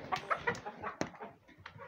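Hens cluck close by in a farmyard at feeding and watering time, giving a quick run of short, soft clucks and one sharper squawk, fairly faint and with no voices.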